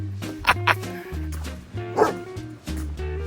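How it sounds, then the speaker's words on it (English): A dog standing on a roof in the small town of Maryfield, Saskatchewan, barks in loud, close yips and woofs, two quick ones early, then another. A steady low hum runs underneath. "it's a dog on a roof, which you don't see very often"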